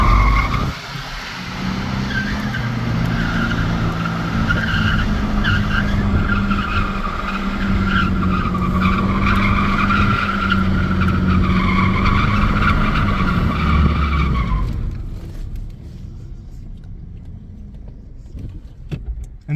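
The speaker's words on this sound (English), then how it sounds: "And there you have it, a reverse donut." A car spins in reverse through a donut while its tyres skid and squeal in a long, steady, loud screech over the engine roar, then everything cuts off abruptly near the end.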